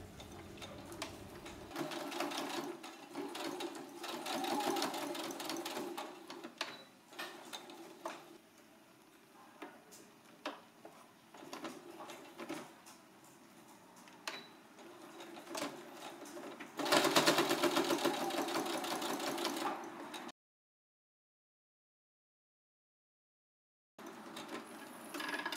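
Sewing machine stitching a straight seam 1 cm from the fabric edge while assembling a puffer jacket, with steady, moderately loud runs of rapid needle ticking, a louder burst near the end, then silence.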